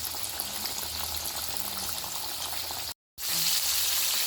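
Chicken frying in oil over a low gas flame makes a steady, bubbling sizzle that breaks off for a moment, then comes back slightly brighter.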